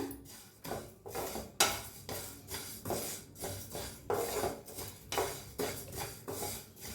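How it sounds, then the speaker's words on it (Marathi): Spices being lightly dry-roasted in a pan for a quick lime and chili pickle, with a metal spoon scraping and clinking against the pan in steady repeated strokes, close and fairly loud, with no talking. "तर हलकंसं भाजून घेऊया आपण"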